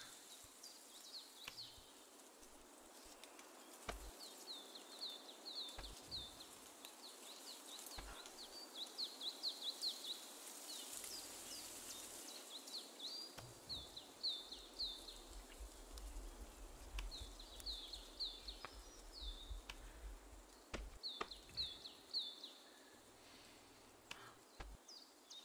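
Bird calls in the climbing video game New Heights: a steady, faint ambient loop of short, repeated high chirps and trills in clusters over a soft buzzing, insect-like bed, continuing throughout with no talking.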